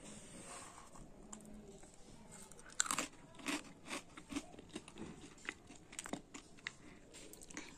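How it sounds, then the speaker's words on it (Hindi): Someone bites and chews Farali Chiwda, a sweet Indian namkeen snack mixed with dried fruit and raisins, making quiet, close, irregular crisp crunches. "ये फरारी चेवड़ा जो है काफी क्रंची और काफी ज्यादा टेस्टी लग रहा है"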